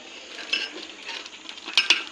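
Mixed pulses of five kinds tipped into a cooking pot and stirred with a spoon give soft scraping and sizzling, with a few sharp metallic clinks of utensil against the pot.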